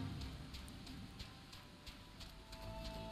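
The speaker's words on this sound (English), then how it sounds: "And we are welcomed by heavy rain." Heavy rain in Final Fantasy XIV, a steady dense hiss with faint periodic patters throughout, quiet and continuous with no voices.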